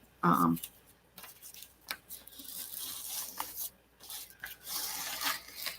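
Soft rubbing, scraping and light tearing as fragile paper is pulled loose from an adhesive backing, in close, intermittent bursts with a brief louder rasp near the start.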